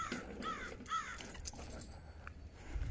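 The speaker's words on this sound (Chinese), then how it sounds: "乌鸦子非常非常多啊" Crows cawing at the Grand Canyon, two harsh calls in quick succession near the start, fairly close, followed by quieter outdoor ambience with faint wind and rustling, no talking.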